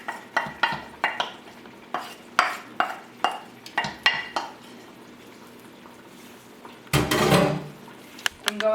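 Spoon stirring chorizo and collard greens through caldo verde in a pot, a run of quick scraping clacks against the pot's sides, then a brief louder burst of sizzling liquid and clatter near the end, close by with no talk.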